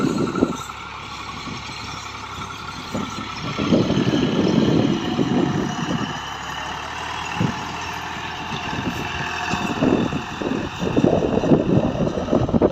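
Strong wind buffets the microphone outdoors beside a Massey Ferguson 260 tractor working a disc harrow. A steady low roar swells in gusts, with the tractor engine's rumble underneath.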